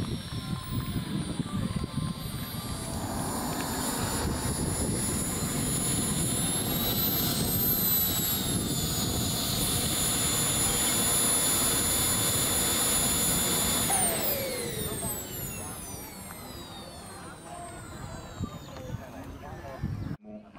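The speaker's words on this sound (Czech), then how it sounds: "to bylo předvedení letounu L59E v podání Vlasty Srny." A loud L-59E jet aircraft engine roars steadily with a piercing high whine during an air show display, then the noise fades and recedes as the aircraft moves away.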